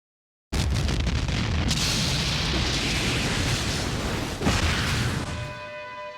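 A nuclear explosion in the disaster movie Atomic Train erupts as a sudden, loud, sustained roaring blast, a dense wall of rumble that holds steady, swells briefly again, then fades into lingering ringing tones.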